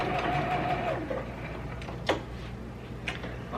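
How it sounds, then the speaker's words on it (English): A sewing machine stitches quilt border pieces together, a close steady mechanical hum with a brief whine early on, then lighter ticking and a couple of sharp clicks as fabric is handled. "I am just stitching these together for my border."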